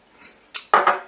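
A few quick clinks and scrapes of a utensil against a jug as sugar and yeast are mixed for pizza dough, short and close, with no voices.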